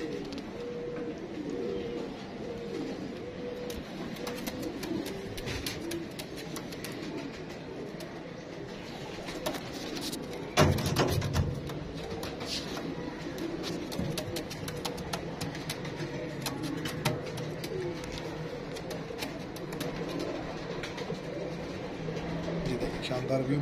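Teddy pigeons in a loft, soft repeated cooing and rustling close by, under someone speaking almost throughout, with a brief louder knock near the middle.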